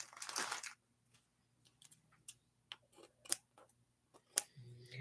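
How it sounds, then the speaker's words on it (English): Scissors snip through plastic wrap during a 4th of July craft session: a crinkly rustle of plastic at the start, then a series of short, sharp, close snips and clicks spread irregularly across the moment. "I got to get this plastic off of this. Let me get my scissors."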